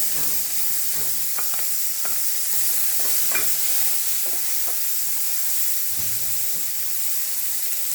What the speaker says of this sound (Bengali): এবার দিয়ে দেবো ক্যাপসিকাম, একই সঙ্গে দিয়ে দেবো টমাটার।